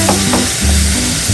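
Onion pieces frying in oil for a prawn fry sizzle loudly and continuously close up, with a bit of stirring over the steady hiss.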